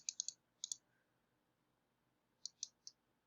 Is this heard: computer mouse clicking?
yes